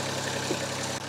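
Toro lawn mower engine running with a steady, close droning hum through a short stretch, briefly dipping near the end.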